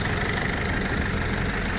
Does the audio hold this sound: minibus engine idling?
yes